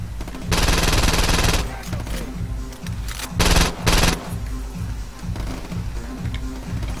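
Heavy automatic gunfire from enemies carrying bigger guns in the video game Saints Row 2, sustained loud rattling bursts with brief gaps, layered over a steady game backdrop.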